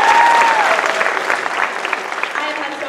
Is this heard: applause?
yes